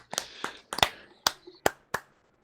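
A few people clap in a loose, uneven pattern, roughly half a dozen sharp close claps spread over two seconds with short gaps, some overlapping, on an otherwise quiet tabletop game call.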